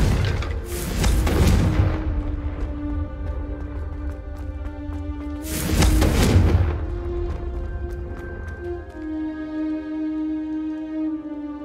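Two loud blast-spell explosions in the Hogwarts Legacy video game, booming bursts near 1 s and 6 s, each followed by a rumbling decay over a steady tonal game music bed, with no talking.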